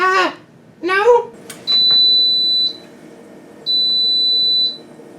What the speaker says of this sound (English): that beep tells him that dinner is ready